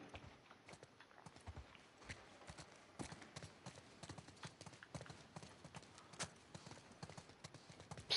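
Horses clip-clop at a walk through The Last of Us Part II game world, a steady, uneven patter of hoof strikes over quiet ambience, moderately close and fairly faint.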